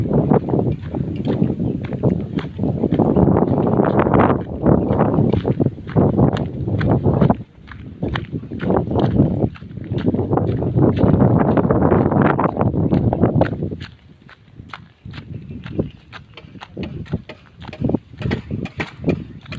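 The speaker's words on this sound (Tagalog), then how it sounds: "mahangin talaga" Strong, steady wind buffeting the microphone in heavy roaring gusts, with scattered footsteps or clops and a brief lull near the end.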